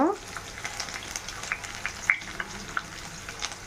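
Carrots drop into hot oil in a pan and sizzle steadily at close range, a soft continuous frying hiss with small crackles, as a vegetable biryani is being prepared.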